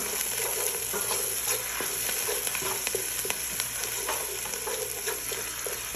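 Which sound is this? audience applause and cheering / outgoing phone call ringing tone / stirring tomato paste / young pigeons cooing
stirring tomato paste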